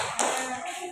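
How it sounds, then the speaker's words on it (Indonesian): Children in an elementary school classroom clap their hands in a brief, quiet burst of a few claps lasting about a second. "Iya, tepuk tangan"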